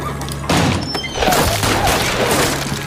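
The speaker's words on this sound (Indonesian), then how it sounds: "Terjadilah adu tembak di sana." A film shootout delivers heavy gunfire with crashing impacts, loud bursts that start abruptly and then sustain a chaotic barrage.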